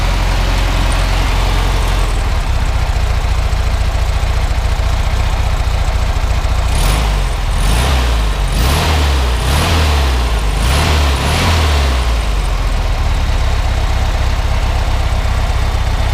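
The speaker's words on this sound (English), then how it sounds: "Engine here, 1500 cc, original engine." A 1967 Volkswagen Karmann Ghia with its original, rebuilt 1500 cc engine idles with a steady low rumble, broken midway by a series of about six quick throttle blips that rise and fall rhythmically before settling back to idle.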